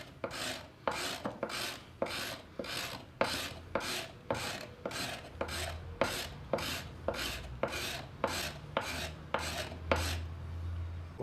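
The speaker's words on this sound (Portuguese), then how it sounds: "Vamos fazer aquela técnica da raspagem para ver o efeito que vai dar." Sharpened plane blade scraping along a strip of peroba wood in about fifteen regular strokes, each a close, rasping scrape with a short pause between, alone without voices.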